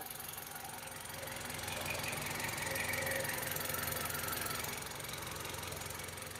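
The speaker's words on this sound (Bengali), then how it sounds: "গাড়িটি এই মুহূর্তে স্টার্টে অবস্থায় রয়েছে।" A 2009 or 2011 Toyota Noah idles with the microphone held close to the engine, giving a steady low hum with a faint mechanical rattle that swells slightly mid-way and holds at a constant level.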